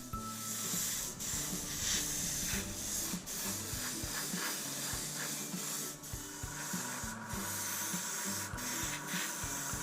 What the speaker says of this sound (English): The aircraft was now given a coat of matte varnish.